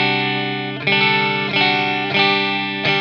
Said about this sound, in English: So let's just try some clean tones. We'll start up on the neck pickup